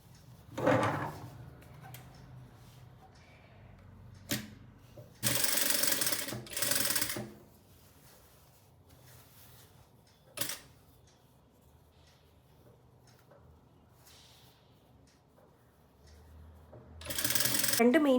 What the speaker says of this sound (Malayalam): ആ മെയിൻ ഫാബ്രിക് മാത്രം എടുത്ത് സ്റ്റിച്ച് ചെയ്യാൻ പോകുന്നു